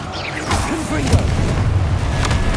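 A Confringo fire spell blasts in the Hogwarts Legacy video game, with a couple of short booming bursts that cut through a voice speaking over the action.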